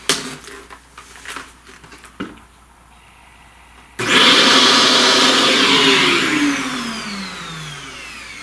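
A vacuum cleaner starts abruptly and roars steadily while sucking up charcoal dust from a drawing, loud and close, its pitch sliding slightly as it runs, after a few soft taps and rustles.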